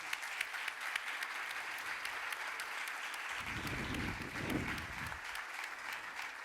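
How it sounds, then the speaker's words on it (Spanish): Audience applause fills the room at a literary festival talk in Almoradiel, a steady wash of many hands clapping at moderate distance with scattered sharper claps and a low murmur under it. "Por favor, un aplauso."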